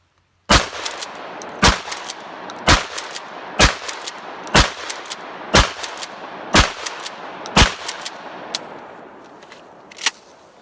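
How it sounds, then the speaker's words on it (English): A Mossberg 500 Bantam 20-gauge pump shotgun is racked aggressively over and over. Eight sharp, loud metallic clacks fall at a steady pace of about one per second, and a fainter final clack follows after a short gap. "that's what your racking of this bad boy needs to look like."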